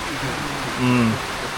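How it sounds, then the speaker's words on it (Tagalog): Steady hiss of rainfall on a construction site in Antipolo, Philippines, a dense wash of noise with a brief voice rising over it midway. "tigil trabaho, umuulan"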